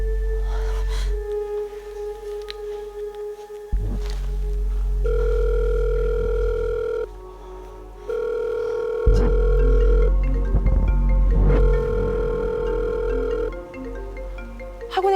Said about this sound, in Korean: 희미하게 벨소리가 들리는 거예요